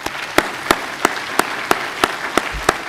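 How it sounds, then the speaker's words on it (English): An audience at a Civil Service Live session claps under a steady hiss of applause, with one clapper standing out in loud, evenly spaced beats. "I wonder if you can join me in giving them a warm round of applause."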